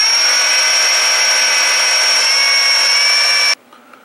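An electric drill bores a hole, without a center punch mark, into the metal casing of an Apple II Disk II floppy drive. It makes a loud, steady high whine for about three and a half seconds, then cuts off abruptly into quiet.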